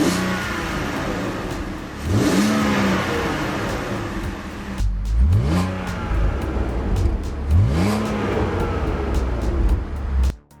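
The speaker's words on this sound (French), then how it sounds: "un moteur 6 cylindres en ligne qui fait un son magnifique, le son classique des 6 cylindres BMW" BMW inline six-cylinder engine in a rear-wheel-drive sports car revving hard, loud and close, with several rising pulls through the gears separated by short drops, alone without talk.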